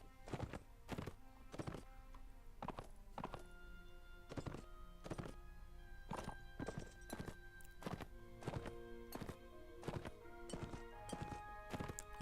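Horse hooves clop over rough terrain in Mount and Blade Warband, in an irregular, fairly even rhythm at close range, over soft tonal background music.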